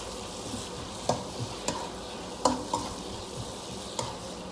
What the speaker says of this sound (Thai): ใส่ไปแล้วก็คนมันต่อครับ